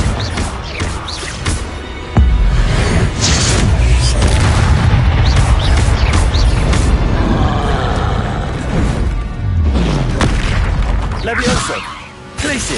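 Confringo explosion spells cast in the Hogwarts Legacy video game, with loud, rolling booms bursting in quick succession, densely layered with crackling spell effects and shouted incantations throughout.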